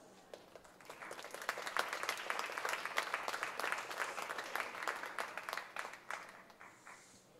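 At a charitable gathering, an audience warmly applauds as a reverend from Mar Thoma Church is welcomed on stage: sustained crowd clapping heard from some distance, fairly soft overall, swelling and then thinning to scattered claps near the end.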